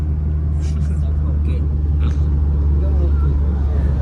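A car drives along a winding mountain ghat road, its low steady engine rumble heard from inside the cabin with voices talking over it.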